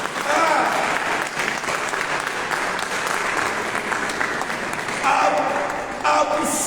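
A congregation applauds during a Saturday prayer service for the sick in the Notre-Dame de Lourdes chapel, with sustained, dense clapping that swells toward the end while a voice speaks over it.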